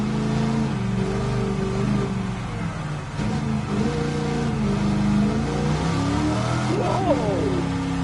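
A 1978 Pontiac Trans Am with a 6.6-liter V8 in Gran Turismo 7 drones steadily and loudly throughout, its pitch climbing and falling as it revs, with a sharp rising sweep near the end.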